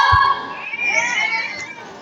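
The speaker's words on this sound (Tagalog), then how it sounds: "salubungan lang po natin siya ng isang masigabong palakpakan na may kasama na ring hiyawan" An audience at a 75th birthday celebration whoops and shouts with excitement, a lively crowd cheer with high voices that swells and then fades slightly, mostly without distinct clapping.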